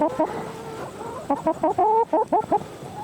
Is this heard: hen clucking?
yes